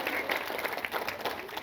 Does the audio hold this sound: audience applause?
yes